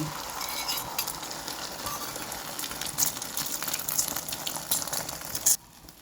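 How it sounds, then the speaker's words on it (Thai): Steady crackling sizzle of eggs frying in a hot pan, with a few sharper pops and clinks, then a sudden drop near the end. "กระทะร้อนเราก็ใส่ไข่ลงไปเลยทุกคน"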